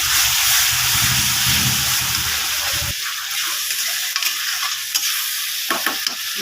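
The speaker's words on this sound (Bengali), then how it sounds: "মশলাটা ভালো করে কষিয়ে নেবো আমি এখন।" Masala spices frying and being stirred in a hot pan with added salt and a splash of water, a steady loud sizzle with scraping strokes, the hiss easing halfway through and a few sharp clicks near the end.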